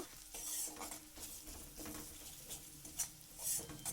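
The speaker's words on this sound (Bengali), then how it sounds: "এবার দিয়ে এটাকে ভালো করে নাড়াচাড়া করে নেব।" Fried onions with chili powder and turmeric are stirred in a pan with a spoon scraping and clinking close by over a faint sizzle, and no one speaks.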